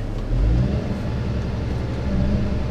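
An Eco Log E-series forwarder from 2017 with a Volvo engine hums and rumbles steadily as its stakes are moved, a low continuous machine drone with a slight swell early on.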